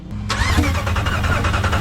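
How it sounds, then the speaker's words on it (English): A Dodge Ram engine cranks over with brake cleaner sprayed into the intake, a loud, close starter churn with rhythmic pulsing that keeps going throughout after a brief click at the start. "try to spray some brake cleaner into here while we're cranking this."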